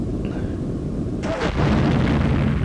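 A missile strikes an enemy jet in the Eurofighter EF2000 flight game, a sudden broadband blast that bursts in midway over a steady engine rumble and rolls on loudly to the end.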